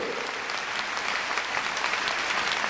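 A concert audience applauds the string players at an anniversary concert, a dense, even wash of many hands clapping that holds steady for the whole stretch.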